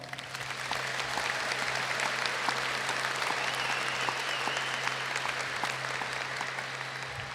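A graduation crowd at Gloucester High School applauds public safety workers, dense sustained clapping from a large audience with a low steady hum beneath it.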